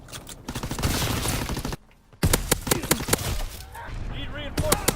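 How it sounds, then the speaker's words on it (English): Strafing-run gunfire in a WW2 Call of Duty match comes as dense rapid bursts of shots and cracks, loud and close, breaking off briefly then resuming in sharp repeated reports amid battlefield noise. "Strafing run inbound."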